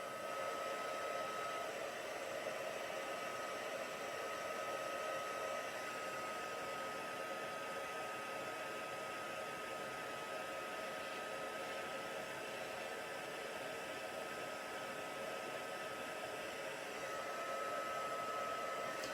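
A hair dryer blows on watercolour ink, making a steady, loud whoosh and whine that holds unbroken for the whole stretch with no talking.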